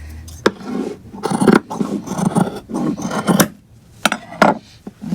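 Jacket sleeve fabric is cut with shears during a professional alteration: a run of loud, close, rasping snips and crunching cuts in short bursts, with a brief pause before the last strokes.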